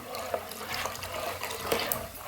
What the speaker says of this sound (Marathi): थोडस पाणी वतूया